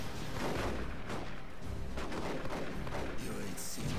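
Heavy video-game gunfire from a shotgun, a dense run of loud booming blasts and crackling shots packed across the stretch with no pauses, close and aggressive, one burst piling into the next.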